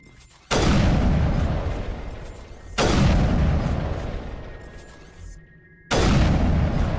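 Three heavy explosions in the Mass Effect video game, each a sudden loud boom with a rumbling tail that fades over a couple of seconds before the next blast hits.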